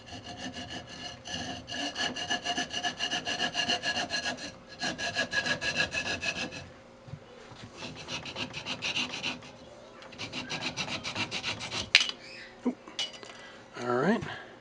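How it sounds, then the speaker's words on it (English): A wooden magic wand being cut off on a lathe, with bursts of rough, rhythmic sawing and rasping on wood, broken by short pauses and ending in a few knocks. "I'm just going to go ahead and cut it off here."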